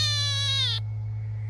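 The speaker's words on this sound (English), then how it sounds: "That's the little kittens." A small newborn kitten on a dairy farm mews in one drawn-out, high, wavering cry that stops abruptly, leaving a steady low hum behind.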